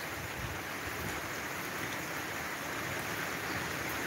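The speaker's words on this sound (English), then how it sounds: "The rain a come now." Rain falling outdoors around a veranda in Jamaica, a steady soft hiss with no break, fairly quiet and unaccompanied by voices.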